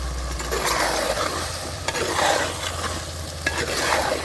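Onions, whole garlic cloves and split green chillies stir-fry in a pan for a rustic chicken curry, with a steady close sizzle and periodic scraping sweeps of a spatula, and no voices.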